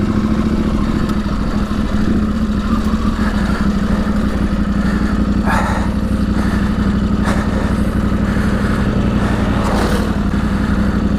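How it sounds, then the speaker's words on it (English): Trail motorbikes ride past a KTM 790 Adventure on the Claerwen Reservoir trail, their engines droning and revving under a constant loud nearby engine hum and wind rush. "we got some trail bikes coming through"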